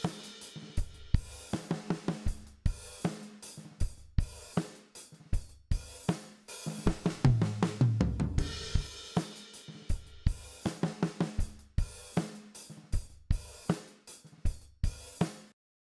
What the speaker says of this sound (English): So half of what you're hearing is a really overly compressed drum set.